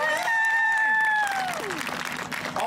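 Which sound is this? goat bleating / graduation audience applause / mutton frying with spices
graduation audience applause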